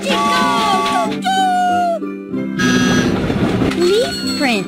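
Cheerful synthesized train jingle from the Jumpstart Baby children's computer game (2000/2001 version), with bright tooting horn-like tones and bouncy melody playing steadily over a few seconds, loud and close with no talking.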